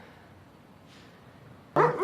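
A dog gives a single sharp, loud bark near the end, breaking a quiet indoor hush in a Coronation Street scene.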